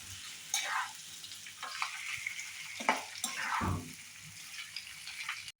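Sliced potatoes for Chettinad-style potato fry sautéing in a pan, soft sizzling with scraping stir strokes and occasional clatter, fairly quiet and close with no talking.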